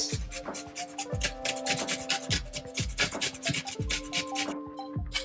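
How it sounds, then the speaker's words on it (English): Ginger grated on a microplane in strong, rhythmic rasping strokes, about one per second, close and clear with no talking. "Take a microplane that you might use to grate cheese, for example, and just grate it."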